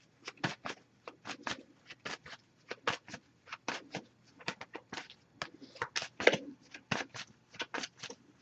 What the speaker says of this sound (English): Just going to pull a single card from this deck as well.